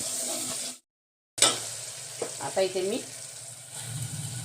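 Chopped tomato dropped into a hot pan for a peanut and fenugreek vegetable dish, a brief dropout followed by a sharp burst of sizzling frying that settles into steady crackle with light stirring clatter.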